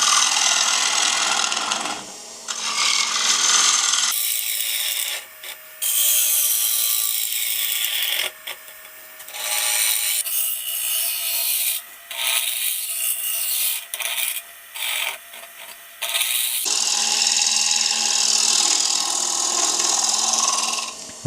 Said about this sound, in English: I'm just using a round nose scraper just to tidy the inside of the walls up, remove any tool marks that could possibly be there